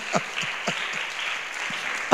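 Congregation at a Pentecostal church service gives a short burst of applause, scattered hand claps over a broad hiss of clapping, lasting about two seconds with faint voices.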